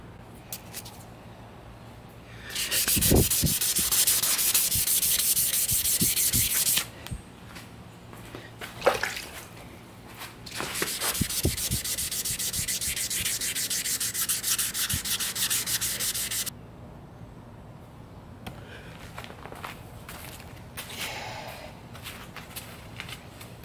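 Fine-grit sandpaper rubbed over a cast bronze axe head in two long, steady bursts of close, hissing back-and-forth strokes, with quieter handling and a pause in between.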